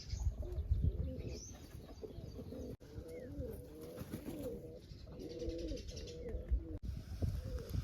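Pigeons in a loft coo softly in repeated low, rolling phrases. The calls are faint against a quiet background, with occasional chirps and wing sounds.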